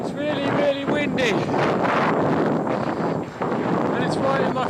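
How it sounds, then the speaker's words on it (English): Strong wind buffets the microphone in a loud, continuous roar across the whole stretch, with a voice briefly audible underneath, outdoors in Holland. "It's really, really windy."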